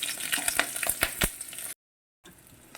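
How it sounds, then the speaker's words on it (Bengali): Slit green chillies and black mustard seeds fry in hot oil with a close, bright sizzle full of sharp popping crackles. The sizzle cuts out briefly into silence, then resumes. "তেলের মধ্যে আমি কালো সরষে ফোড়ন দিয়ে দিলাম এবার ফাটিয়ে রাখা কাঁচা লঙ্কাগুলোও দিয়ে দিলাম"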